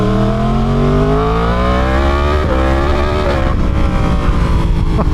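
A non-stock Yamaha R1 sport motorcycle engine revs loud and close, its pitch sweeping steadily upward then dropping, with a rasping exhaust note throughout.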